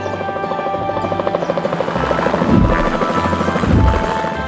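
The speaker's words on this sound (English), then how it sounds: "The helicopters are airborne." Cartoon rescue helicopter propellers spin up with a loud, fast rhythmic chopping buzz, close and continuous, swelling in heavy low thumps near the end.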